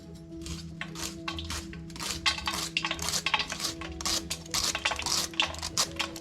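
A knife chops young spinach stems finely on a board for a spinach thoran, sounding as a quick run of crisp, close taps that grows denser and louder toward the end, with no speech.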